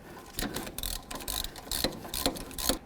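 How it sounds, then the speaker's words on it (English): A ratchet runs down new caliper bolts on the rear brakes of a 2005–2016 Ford Mustang. Several close bursts of rapid clicking come in uneven strokes, with no one speaking. "Now we're going to bottom out these bolts."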